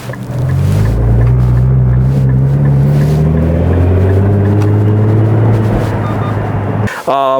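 A Nissan GT-R R35 engine revs loud and close, its drone rising and falling through a run of downshifts, then cutting out abruptly near the end.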